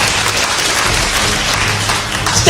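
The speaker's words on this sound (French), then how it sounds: "Applaudissez." An audience at a live stage show votes by clapping, giving a loud, continuous wash of applause that stays even from start to finish, with a slight swell at the end.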